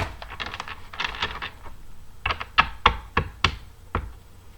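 Tarot clarifier cards shuffled by hand in a tarot reading, giving close sharp taps and slaps in quick uneven bursts, louder toward the middle, with no voices.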